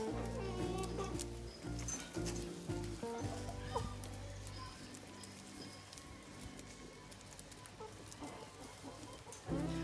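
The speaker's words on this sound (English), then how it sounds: "I'm free ranging my chickens. So you see and hear a lot of them in the background." Free-range chickens in Kenya cluck and squawk nearby and in the distance, scattered calls over a steady outdoor background with faint patter.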